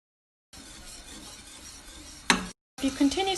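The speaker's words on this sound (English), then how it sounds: "Add a handful of fresh parsley and continue to stir" A spoon stirs a handful of fresh parsley into a whisked sauce in a pan for a fish pie, giving a soft, steady scraping swirl, then a brief clink and a short pause before louder stirring resumes.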